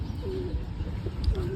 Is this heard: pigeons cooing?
yes